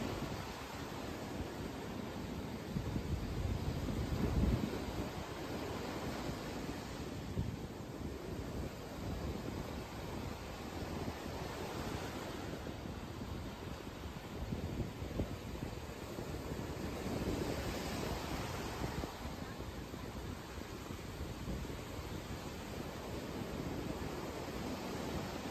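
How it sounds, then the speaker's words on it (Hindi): Sea waves wash onto the shore as a continuous roar of surf that swells and eases in slow surges, steady and fairly loud throughout with no voices. "चलते रहिए, चलते रहिए, समुद्र की लहरों को सुनते रहिए।"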